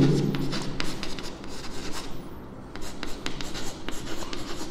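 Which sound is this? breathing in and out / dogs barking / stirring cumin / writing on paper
writing on paper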